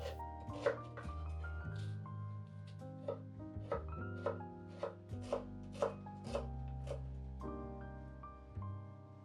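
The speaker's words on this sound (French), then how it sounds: "Ciselez une échalote ou l'équivalent là aussi à 2 cuillères à soupe." A knife finely chops a shallot on a cutting board, a steady series of crisp close taps in an uneven rhythm with no voices.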